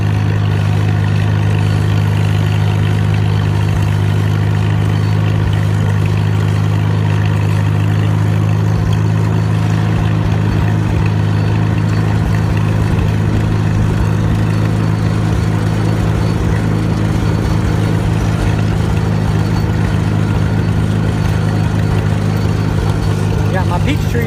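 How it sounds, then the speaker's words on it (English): A 1943 Farmall H tractor driving along a country property past peach trees, its engine chugging in a loud, steady low drone that continues unbroken throughout, with a voice talking over it. "driving an old tractor in the country"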